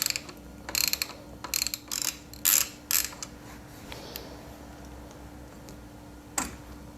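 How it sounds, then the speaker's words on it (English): Ratchet with a 10mm socket loosening the negative terminal on the 12-volt battery of a BMW i8, several short bursts of clicking pawl close by, then a pause and one last quick click. "using a 10mm socket, I can go ahead and remove the negative battery terminal from the 12-volt battery"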